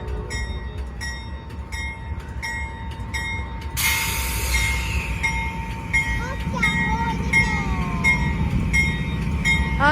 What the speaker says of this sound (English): Okay guys, the train's departed.